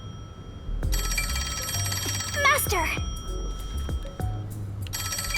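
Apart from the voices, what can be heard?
telephone ringing in the video game Master Detective Archives: Rain Code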